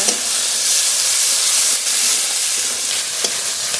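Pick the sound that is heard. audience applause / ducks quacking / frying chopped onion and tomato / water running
frying chopped onion and tomato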